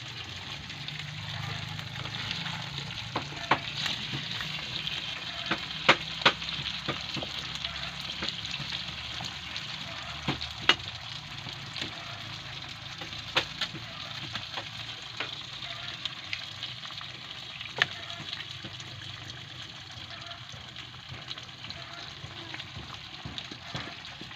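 Adobo Chino with tomato sauce and ketchup is stirred in a pan, giving a steady soft sizzle dotted with sharp clicks and scrapes of the utensil against the pan, close up and without talk.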